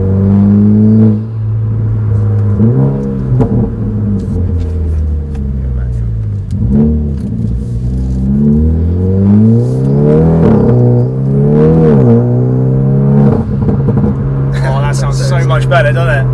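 A Hyundai i30N facelift with DCT gearbox and a full RPM Performance exhaust, valves open, revs repeatedly in rising and falling sweeps with a deep, thuddy drone, loud and close, with a voice talking over it.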